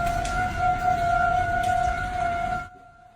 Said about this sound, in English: Sirens were going off yesterday.